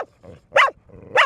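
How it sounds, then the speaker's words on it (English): A four-year-old dog barks close by, two sharp yips and then two loud barks in quick succession, with no talk. "She will bark and bark and bark."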